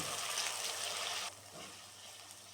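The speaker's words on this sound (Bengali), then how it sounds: "পেঁয়াজের সাথে মশলাগুলো ভালোভাবে ভেজে নেব" Onions and spices frying with ginger-garlic paste give a steady, fairly loud hiss of sizzling oil that drops to a softer simmer about halfway through.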